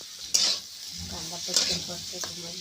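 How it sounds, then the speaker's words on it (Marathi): Onion being stirred and fried in a little oil in a kadai for a potato-onion vegetable, a steady sizzle with occasional scraping clinks of the spoon against the pan, close and fairly quiet. "आजी टाकून आहे आता कढईमध्ये थोडासा कांदा आणि हा चांगला परतून द्यायचा आहे"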